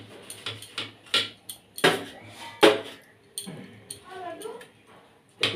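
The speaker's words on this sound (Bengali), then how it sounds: "ডিম পনিরটা এটা আমি এরকম করে পিস পিস করে কেটে নেব।" A knife cuts egg paneer into pieces on a hard surface, giving a series of sharp clicking taps at an irregular pace, close by, while a person talks over them.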